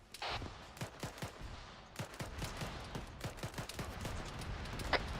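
Video game machine-gun fire, rapid bursts of sharp shots at varying distances, with an overlapping rattle of gunfire in the background.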